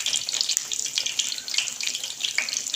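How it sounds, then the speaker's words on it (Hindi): Bread snacks with chicken and vegetable filling frying in hot oil, a steady dense crackling sizzle that runs without a break and stays close and fairly loud, with no voices over it. "अब इन स्नैक्स को मैं अंदर डालूँगी फ्राई होने के लिए"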